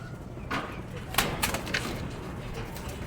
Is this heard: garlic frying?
no